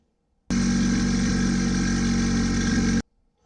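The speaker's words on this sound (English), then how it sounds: "I think I gotta make a little mark into it with the angle grinder" An angle grinder cuts into a steel exhaust pipe from a Nissan 370Z in one loud, continuous, steady whine lasting about two and a half seconds. It starts and stops abruptly, with near silence on either side.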